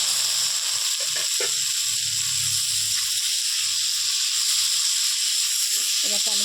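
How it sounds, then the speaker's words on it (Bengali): Chopped tomatoes going into a pan of frying masala, giving a steady hiss and sizzle throughout, with stirring and clinks of a spoon against the pan. "এবার এটার মধ্যে আমি কেটে রাখা টমেটোটা দিয়ে দিলাম"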